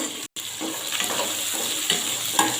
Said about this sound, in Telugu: పచ్చి బఠానీ వేసుకొని నూనెలో ఫ్రై చేసుకోవాలి